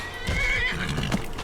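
A horse in the video game Skyrim whinnies with a rising, drawn-out neigh over steady hoof clops, clear and fairly loud against a busy game background.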